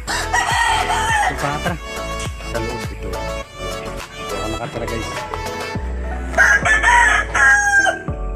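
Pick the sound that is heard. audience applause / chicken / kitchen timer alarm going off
chicken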